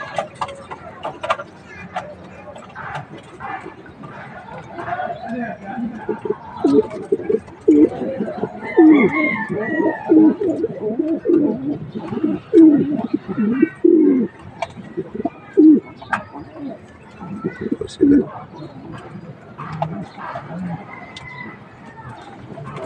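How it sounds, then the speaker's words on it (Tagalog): Pigeons coo repeatedly inside a small homemade DIY cage loft, a steady stream of soft, low, throaty calls with overlapping birds close by and a few sharper chirps mixed in. "Ayan lang po yung ating munting ibonan."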